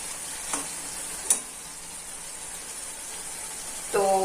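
Rui fish with jackfruit seeds simmers and sizzles steadily in a pan, a soft continuous frying hiss with a couple of faint clicks of stirring, and a voice begins briefly at the very end.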